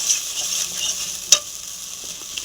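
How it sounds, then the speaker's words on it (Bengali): Spice paste being fried down and stirred in a pan for rohu fish in poppy seed sauce: a steady, close hiss of sizzling oil with soft scraping, and one sharp clink midway. "এবার এই মশলাটাকে আরেকটু ভালো করে কষে আমি জল দিয়ে দেব"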